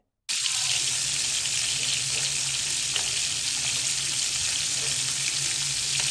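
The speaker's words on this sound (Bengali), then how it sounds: "মিডিয়াম করেই মাছটা ভেজে নিচ্ছি" Rohu fish pieces coated in turmeric and salt fry at medium heat in a pan, giving a loud, steady, even sizzle that holds for several seconds, with no voices over it.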